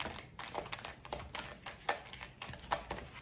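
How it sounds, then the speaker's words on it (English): Tarot cards are shuffled in a quick, uneven run of soft crisp riffles and flicks, close by and fairly quiet. "So a card fell while I was shuffling."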